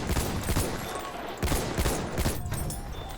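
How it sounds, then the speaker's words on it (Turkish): Machine gun fire on a Battlefield 1 battlefield at Gallipoli crackles in overlapping rapid bursts, loud and sustained, with dense battle noise layered underneath. "Makine tüfek."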